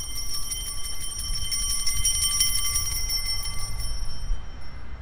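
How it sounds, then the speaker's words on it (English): Steady high jingling bells on a small passing truck ring continuously over a low rumble of passing traffic, fading slightly toward the end. "I'm going to let this little truck pass because, as you can hear, these bells are going to be very distracting"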